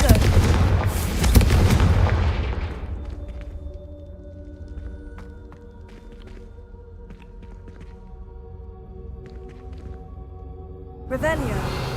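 Confringo spell explosions in Hogwarts Legacy, a loud booming blast that rolls off into a long ringing magical tail, followed by another sharp burst at the end.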